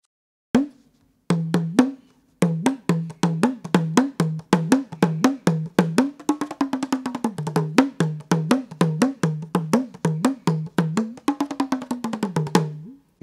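An udukkai hand drum plays alone in a quick, steady rhythm of close, loud strokes. Each stroke carries a bending, pitch-shifting tone, and the pattern runs with only brief pauses.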